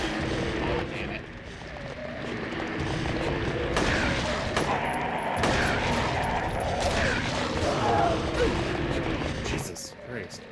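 Gunfire from a player's weapon in the survival-horror game Silent Hill 3, dense and continuous over a busy backdrop of game noise, with a brief burst of commentary speech.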